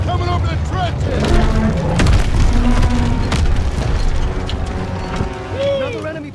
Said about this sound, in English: Enemy tanks coming over the trenches!